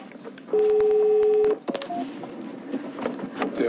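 A phone at an emergency call centre gives a steady electronic ring for about a second. Clicks and low background noise follow.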